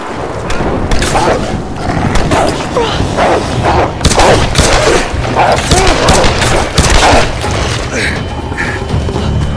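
Rapid gunfire from a firefight in the video game Tomb Raider Definitive Edition, loud bursts of shots crackling in quick succession with clattering mechanical noise and voices mixed in.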